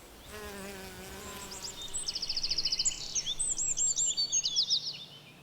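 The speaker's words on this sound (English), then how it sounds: "In the nest, the hornet offspring are fed with captured insects." Hornets buzz close by near their nest in a Vosges forest, a steady droning hum strongest in the first two seconds, then giving way to bright, rapid birdsong trills that repeat over a faint background hum.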